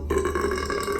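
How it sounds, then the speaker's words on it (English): A single loud, throaty burp from someone who has been eating Costco hot dog meals, close up, lasting about a second with no talking. "I still had a ton of hot dog burps"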